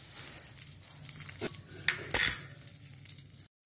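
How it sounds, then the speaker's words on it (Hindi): Amla being added to hot ghee in a kadai, with soft sizzling and a few clinks and stirring scrapes of a spoon against the pan, all fairly quiet. "दो बड़े चम्मच से घी डालेंगे और उसमें आंवला, अब आंवला डाल देंगे"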